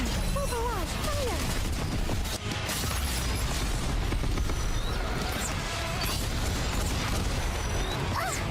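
Explosions in the video game NIKKE boom and crackle densely throughout, a loud continuous barrage of bursts and mechanical gunfire clatter with game sound effects layered over it.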